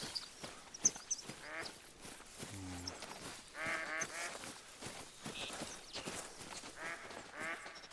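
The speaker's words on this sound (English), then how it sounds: "I hear some ducks." Ducks quack repeatedly in the hunting game The Hunter: Call of the Wild, a series of nasal calls at moderate distance over a steady outdoor ambience, with some faint game sounds mixed in.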